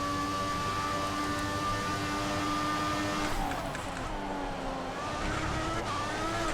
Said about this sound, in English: I think this turbo whistle is a little bit too much.